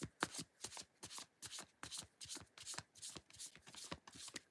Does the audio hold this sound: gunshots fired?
no